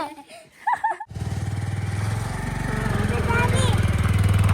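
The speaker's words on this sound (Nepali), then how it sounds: "जेबिन चढ्छ अरे बाइकमा अब" A brief burst of voices, then a motorcycle engine starts rumbling steadily at close range, its throbbing idle growing slightly louder toward the end.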